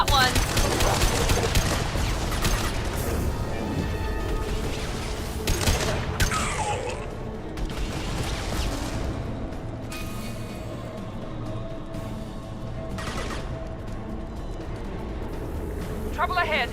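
Heavy gunfire and explosive blasts from a video game battle, with a high-impact shot among dense, continuous loud combat noise and bursts of layered sound effects; voices talk over the action throughout.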